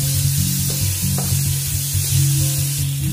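Onions sautéing with a pinch of salt in a pan, an even close sizzle with a few soft stirring scrapes and no voices.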